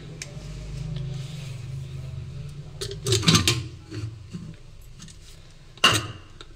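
A lid goes onto a pot of ash gourd curry with a couple of close clattering clinks, one midway and a sharper one near the end, over a low steady background hum.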